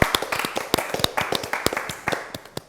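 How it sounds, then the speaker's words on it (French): A small audience claps for contestants at a baking challenge, with sharp, distinct hand claps in an uneven rhythm, close and fairly sparse, suggesting only a handful of people clapping. "on peut vous applaudir, bravo"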